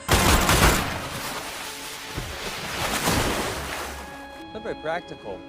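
Bursts of heavy gunfire crackle over a roaring, surf-like wash of noise, easing off toward the end as a voice briefly speaks.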